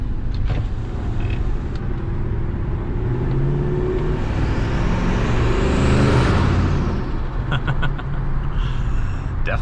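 A single-turbo Ford F150 pickup with a built block drives along, its engine a steady low rumble from inside the cab with a rising whoosh midway.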